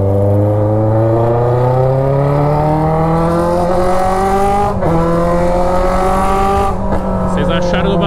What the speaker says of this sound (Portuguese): Deixa aí nos comentários aí o que vocês acharam do barulho do escapamento